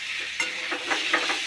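New potatoes fry with spices in a pan, a continuous sizzle broken by brisk stirring scrapes at a regular pace, close and fairly loud, with no voices.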